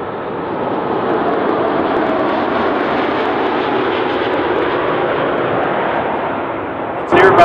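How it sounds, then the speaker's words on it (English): The twin turbofan engines of an Airbus A330 roar in a steady, loud, broad rumble that holds throughout, with a brief louder burst at the very end. "Airbus A330 with two turbofan engines."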